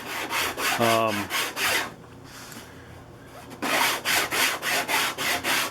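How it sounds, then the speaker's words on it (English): Rhythmic back-and-forth rasping of hand sanding body filler on a Corsair aircraft, a burst of strokes, a short pause, then another steady run of strokes close up. "So I will be sanding a little bit this morning in order to get all this stuff smoothed back down again."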